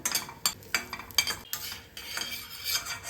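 Repeated metal scrapes and clinks of a spoon stirring cashews in a pan, with a faint sizzle of them frying in ghee underneath.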